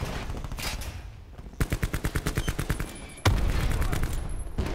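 Bursts of automatic gunfire in the video game Call of Duty: Black Ops 4, a rapid rhythmic string of shots followed by a louder, denser volley, close and loud.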